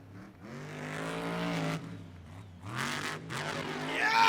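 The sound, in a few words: truck engine roaring during a jump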